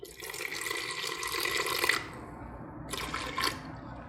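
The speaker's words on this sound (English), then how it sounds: "now you have to add a little bit water to make it a little liquidy" Water poured from a tap or jug into a bowl of whole wheat pizza dough, a steady close splashing stream that pauses briefly and resumes.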